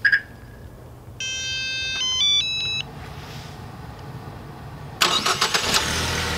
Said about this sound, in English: You're gonna hear a confirmation blink on and a jingle from your remote control, and then the car will start on